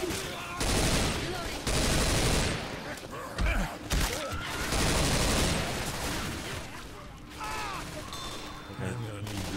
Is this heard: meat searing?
no